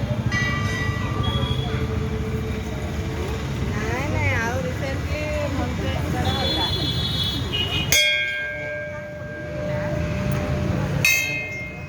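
Metal temple bells at Gokul Dham ringing amid a busy crowd, with sharp clangs and long ringing tones, a prominent strike near the middle and another near the end, while voices chatter and shout around them.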